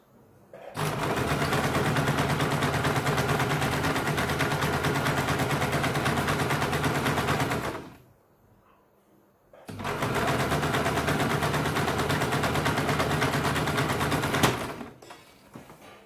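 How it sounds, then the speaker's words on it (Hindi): A sewing machine runs steadily while stitching the side seam of a blouse, in two long continuous bursts with a brief pause between them, loud and close. "तो पहले हम किनारे पे सिलाई लगाते हैं।"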